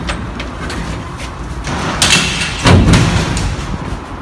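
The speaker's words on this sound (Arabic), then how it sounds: "ايه ده الباب بيتفتح كده ليه؟" A door swings open inside an apartment, a muffled scraping slide followed by a dull thud partway through, fairly loud against a low background rumble.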